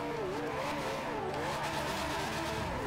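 Ferrari Enzo engine in Forza Horizon 2 as the car turns into a corner, a steady revving whine that rises and falls in pitch throughout, loud and continuous with faint tire noise.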